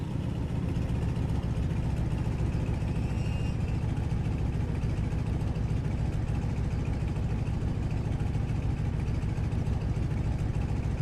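A parked aircraft engine idles in front of a hangar, giving a steady, continuous low drone with a faint higher whine above it, loud and unbroken throughout with no speech.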